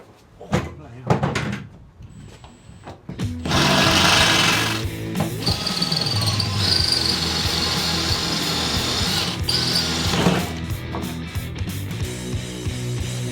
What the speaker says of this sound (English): So that's all the studs in the floor ground out.